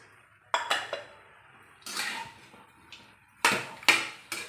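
Moong dal halwa is stirred in a pan, heard as a few separate metallic spoon clanks and scrapes against the vessel with quiet gaps between them, close and fairly soft.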